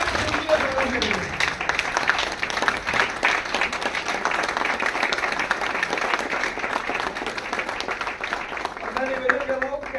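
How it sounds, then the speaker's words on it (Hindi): An audience at a national trade conference inauguration attended by the industry minister applauds loudly, in a continuous, dense roar of clapping lasting ten seconds, with a voice briefly heard at the start and end. "एक बार जोरदार ताली खड़ा हो जाए।"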